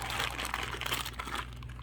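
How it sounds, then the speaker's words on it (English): A rolled-up plastic bag holding a Sig P365 pistol crinkles and rustles steadily up close, alone, for under two seconds. "Yep, right here, plastic bag, all rolled up."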